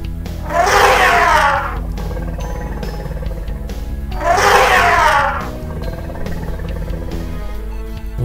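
A toy elephant plays a recorded elephant trumpet twice, each a loud, rough blast lasting about a second, with a steady electronic hum underneath.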